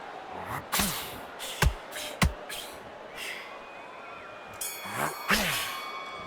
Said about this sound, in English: he is glad to have heard that bell